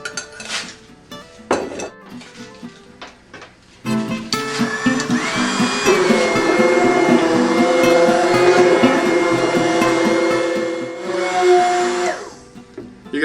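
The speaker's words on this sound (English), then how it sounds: "You can keep stirring, but I like to use a stick blender," A stick blender whirs steadily through a batch of glycerin soap made from biodiesel byproduct, starting after a few knocks and clatters and running loud and continuous for about eight seconds before cutting off.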